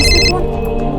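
A telephone rings in an office setting in a TV crime drama, a short burst of bright electronic ring tones that cuts off quickly over a low indoor hum.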